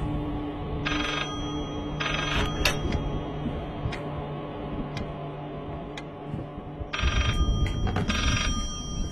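Telephone ringing inside a horror video game, repeated electronic ring bursts at about one, two, seven and eight seconds over a dense, steady background of game ambience and music.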